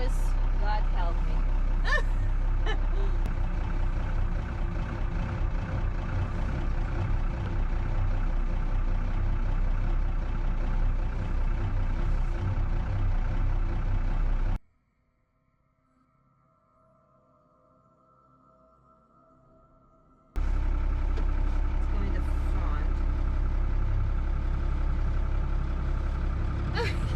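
A barn-find Talbot's engine runs with a heavy, steady low rumble as the car is eased into reverse. The sound cuts out almost entirely midway and then returns at full level, with people talking near the car.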